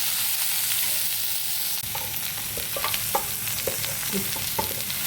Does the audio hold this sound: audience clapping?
no